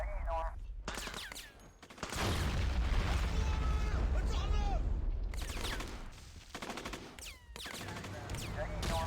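An enemy machine gunner fires during a Modern Warfare campaign mission at Tiyas Airbase: loud, dense bursts of automatic gunfire mixed with explosions and battle noise, with voices shouting over the fighting.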